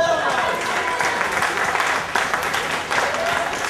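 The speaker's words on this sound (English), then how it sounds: "Give a round of applause!" A crowd applauds the winning team of a city scavenger-hunt game, a thick continuous wash of clapping and cheering that stays loud throughout, with voices mixed in.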